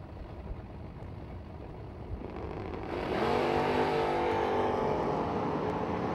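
Drag racing cars at the start line, a purple Nova and a Chevy II, idling rumble rising into a loud, sustained roaring launch of engines close by.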